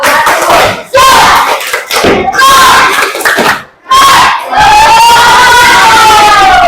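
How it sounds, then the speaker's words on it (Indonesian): A classroom of students loudly performs the tepuk semangat chant together, with rhythmic clapping and shouted unison phrases broken by short gaps, close and forceful. "Tepuk semangat."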